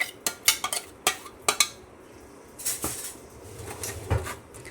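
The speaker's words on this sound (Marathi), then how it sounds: "आता परत गाळणीनं गाळून घ्यायचं" A metal spoon clinks and scrapes against a strainer and bowl while ground drumstick soup is pressed through. Several sharp taps come early, then softer stirring and scraping, and a final knock.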